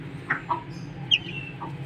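A hen clucks a few times in a short, uneven series, fairly near but moderate in volume, with faint farmyard background noise underneath.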